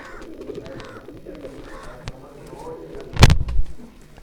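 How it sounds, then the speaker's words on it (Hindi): Tiger-breed pigeons coo softly in a loft while people talk over them, and a sudden loud rustle or flap of wings bursts up near the end. "ये मेन कबूतर है जो टाइगर नस्ल का"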